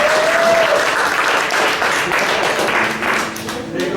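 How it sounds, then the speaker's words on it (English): Loud theater audience applause for a performer at a pre-show, with many hands clapping together in a full burst that holds steady and thins slightly toward the end. "Give him a big round of applause."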